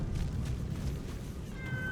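A house cat gives a brief, faint meow near the end, over a steady low hum of background noise.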